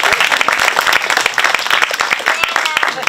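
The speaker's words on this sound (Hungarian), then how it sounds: "Mikit is tapsoljuk meg," Close, loud applause from a studio audience on a Hungarian magazine show, brisk sharp claps in a dense uneven rhythm that continues steadily throughout.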